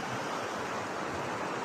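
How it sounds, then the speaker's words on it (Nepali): Steady broadband rush of the Kali Gandaki river flowing, a continuous even roar of moving water with no breaks and no voices. "यो हो कालीगण्डकी नदी"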